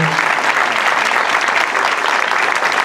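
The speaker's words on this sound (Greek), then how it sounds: "Σε αυτά χειροκροτάνε, δεν τα ζητάω" Steady, loud applause from a crowd fills the space for children's violin and lute players at a cultural association music workshop on Kythnos, continuous throughout with no talk.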